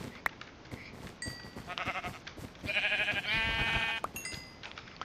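Blocky sheep in the Minecraft video game bleat in a few wavering, nasal calls over soft game background noise, with short thuds from a sword attack mixed in.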